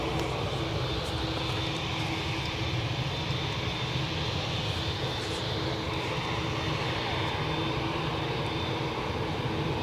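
A CRJ 900 jet idles or taxis at Newcastle airport, a constant broadband engine roar with a steady hum, moderately distant and unchanging throughout with no voices.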